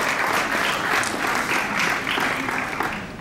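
Sustained audience applause at a ceremony where a cheque and tricolour sash are presented, a dense, steady wash of clapping that fills the whole moment and tapers slightly at the end.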